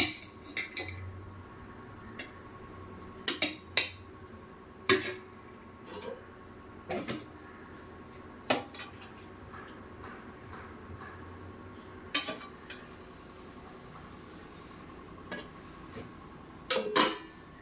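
Scattered clinks and scrapes of cutlery on a plate while eating pepper chicken gravy with rice, sharp isolated taps at irregular intervals over a quiet room.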